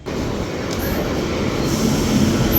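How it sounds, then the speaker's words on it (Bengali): A train arriving at a station rumbles loudly nearby, a steady heavy roar that swells slightly, with a faint high squeal of wheels near the end. "আমাদের ট্রেন এসে গেছে"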